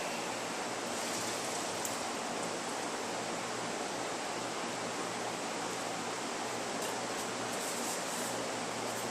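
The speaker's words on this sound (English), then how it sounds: "Alright, now I'll pour this out." Cleaning fluid pours steadily from a paint spray gun cup into a container, a continuous close, even wash of liquid with no gaps, alone without voices.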